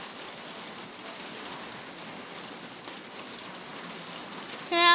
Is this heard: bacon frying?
no